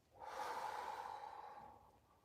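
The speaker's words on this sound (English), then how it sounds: "Let's take a deep breath here." One deep, breathy exhale during a beginner yoga mobility exercise, a single close, soft rush of air lasting about two seconds that fades out gradually.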